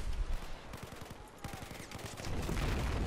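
Gunfire in the video game Battlefield 4 on the Hainan Resort map, a rapid burst of close shots with dense clattering fire and noisy battle din behind it.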